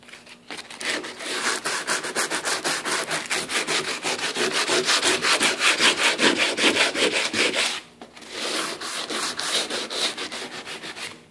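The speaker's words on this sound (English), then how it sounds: "So the next step is sanding and staining all our bright work." Hand sanding of wooden bright work on a boat build, a steady run of rapid back-and-forth abrasive strokes, close and loud, with a brief pause before the strokes resume.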